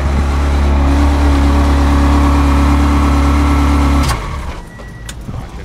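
A 1999 Ferrari 360 Modena engine idles with a steady, loud low rumble for about four seconds, then cuts off sharply, leaving quieter background noise.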